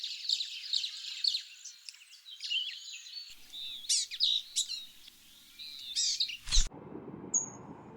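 Many birds sing and chirp in a cloud forest, bright overlapping calls and trills close and far, alone with no talk, ending with a single high thin whistle over soft background hiss.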